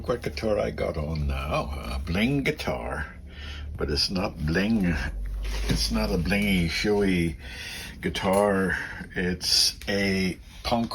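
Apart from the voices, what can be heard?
No everyday noises stand out.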